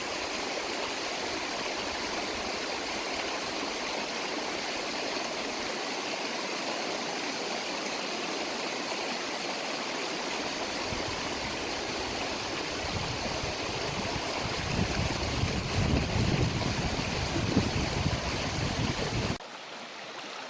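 Flowing river water on the East Fork of the San Gabriel River rushes steadily and close by, turning louder and more turbulent toward the end before cutting off abruptly.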